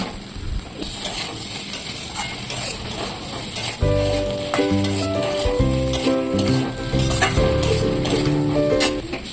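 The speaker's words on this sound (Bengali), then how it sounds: "আদা বাটাটা আরেকটু ভালো করে কষিয়ে নেব" Ginger paste fried with tomato and potatoes in a pan, stirred with scraping, clinking spoon strokes over a low sizzle, while tonal background music comes in partway and continues beneath it.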